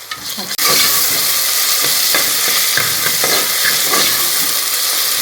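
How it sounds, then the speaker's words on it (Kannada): Onions sizzle steadily in oil in a pan with a loud, constant hiss, broken by occasional soft scrapes of stirring. "ಒಂಥರ ಗೋಲ್ಡನ್ ಕಲರ್ ಆಗೋತನಕ ನೀಟಾಗಿ ಫ್ರೈ ಮಾಡಬೇಕು"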